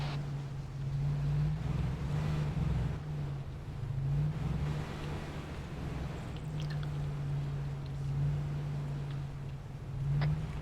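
Several military vehicles drive in convoy in Arma 3, a steady low engine drone holding throughout with a faint rising whine near the end and no voices.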